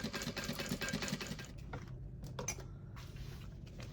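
A sewing machine stitches a vinyl pencil pouch in a quick rhythmic run of close, mechanical clatter that stops partway through, leaving soft handling noises.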